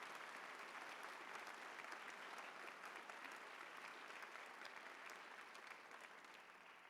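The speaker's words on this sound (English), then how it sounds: "Let's have a round of applause for all of our outstanding GSIs." A large audience claps for outstanding graduate student instructors at the UC Berkeley physics commencement, a dense, even roar of applause that holds steady throughout and fades slightly at the end, distant and fairly quiet.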